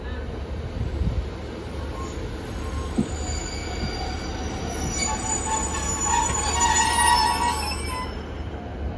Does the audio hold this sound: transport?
yes